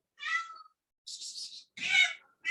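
Indoor cat meowing up close, three short, distinct meows in quick succession with brief silences between them and no talking underneath.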